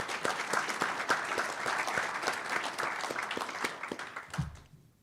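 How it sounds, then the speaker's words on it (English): Banquet audience applause for a driver development racing program's season, a dense steady clapping from a room full of people that fades out near the end. "I'd like to give them all another round of applause for how great they did this season."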